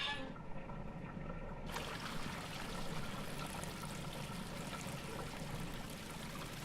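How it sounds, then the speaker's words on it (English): Water in a garden set running by a turned crank in the video game Quern, a steady rushing and trickling flow that swells in brightness partway through and keeps going at moderate level. "We turn on the water."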